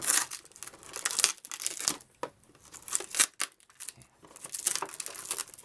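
Tape handled to hold a mannequin's head in place, with close, loud crinkling and tearing bursts broken by short pauses.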